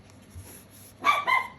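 Chihuahua barking indoors at a fire: a couple of sharp, high yapping barks close by after a quiet stretch with a faint low whimper, no talking.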